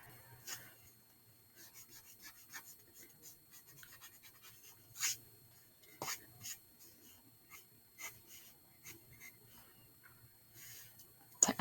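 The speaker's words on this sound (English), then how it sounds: "And erase those lines in between." A pencil drawing of a pineapple being erased, with soft rubbing and scratching strokes on paper coming in short, irregular bursts, fairly quiet and close, plus a few sharper scrapes near the end.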